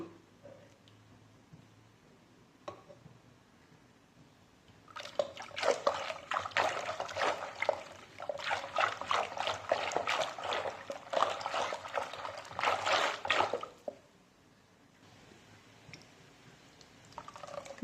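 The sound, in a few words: mashing cooked mung dal with a masher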